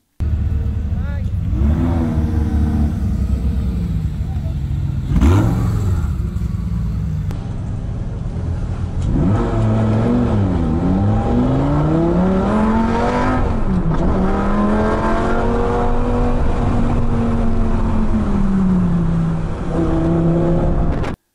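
A Lamborghini Gallardo on a race track sounds out as a loud, continuous engine note heard from inside the car, rising and falling through repeated revs and gear changes, with some speech underneath.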